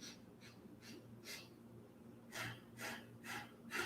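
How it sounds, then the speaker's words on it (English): Deep, slow breaths are drawn in and pushed out during a guided breathing workshop, a series of airy rushes in a steady rhythm, growing louder and quicker toward the end, with no talking. "As you breathe in, I want you to lift your chest, tuck your chin, so slightly lengthen your spine."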